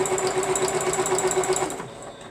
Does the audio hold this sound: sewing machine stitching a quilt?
yes